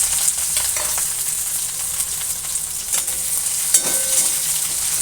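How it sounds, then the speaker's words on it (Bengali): Chopped onion, green chili and capsicum frying in oil, a loud continuous hiss and crackle close by, with a few brief clinks of a spoon against the pan. "এবার পেঁয়াজটা ভাজতে থাকবো।"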